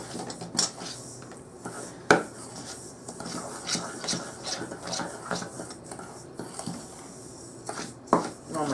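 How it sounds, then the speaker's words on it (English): Spices for a homemade Hamburger Helper seasoning blend, including granulated garlic, being stirred together in a bowl: repeated soft scraping and rubbing strokes with occasional sharper clinks against the container, close and fairly quiet. "we're going to mix this all up together"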